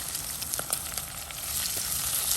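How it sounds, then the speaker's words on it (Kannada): Onion and green chillies sizzle steadily in a hot pan for a raw banana palya, a dense continuous frying hiss with a few soft pops and a slight swell toward the end, close and with no talking. "1 ಈರುಳ್ಳಿನ ಹಾಕ್ತಾ ಇದ್ದೀನಿ"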